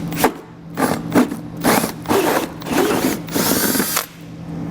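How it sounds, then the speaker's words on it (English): A power drill with a hole saw and pilot bit grinds through the plastic bumper of a 2022 Ford Escape in repeated bursts, the motor whining and cutting in short pulses with brief pauses between. "we're going to come back with our hole saw here with our pilot bit in there."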